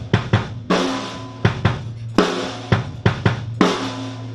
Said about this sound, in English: the kick drum and the snare are in a regular 4/4 rhythm